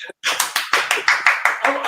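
A man claps his hands in a steady run of about eight sharp, close claps, with speech faintly mixed in.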